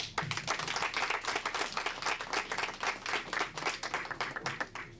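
Audience at an evening event applauding, a dense, steady wash of many hands clapping throughout, fairly even and sustained with no voices over it.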